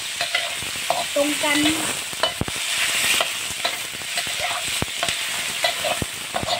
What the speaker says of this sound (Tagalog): Medyo piniprito ko lang ng konti itong ano